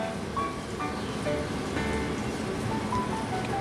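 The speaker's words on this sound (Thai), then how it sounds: "ก็ถ้ามีเสียงลมก็ขออภัยนะครับ" Steady, loud wind buffeting a microphone outdoors, a continuous broadband rush with no pauses throughout.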